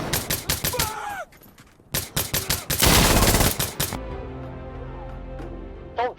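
Gunfire in the Insurgency: Sandstorm video game, quick volleys of loud rifle shots and a sustained automatic burst, followed by quieter background ambience with a short groan near the end.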